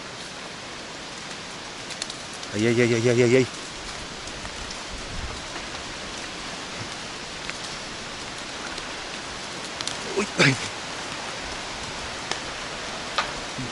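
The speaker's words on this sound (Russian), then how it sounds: "Ветер разыгрался, ого-го." Strong wind gusting steadily outdoors as a storm builds, broadband roar throughout with a brief loud burst and a short exclamation from a person.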